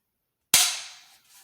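A Weatherby Vanguard S2 hunting rifle trigger breaks on a pull gauge at about two pounds, giving one sharp, loud dry-fire snap after silence that decays over about a second.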